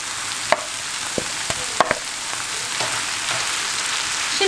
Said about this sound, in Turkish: Şimdi patatesimi bir güzel karıştırıp ocağımın altını kapatacağım.